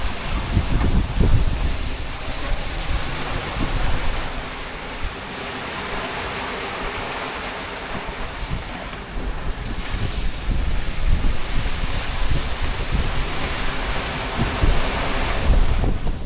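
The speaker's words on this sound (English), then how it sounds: "These are really big waves." Big Atlantic Ocean waves roar and crash steadily at sea, with rumbling surf and gusts of wind buffeting the microphone; no voices.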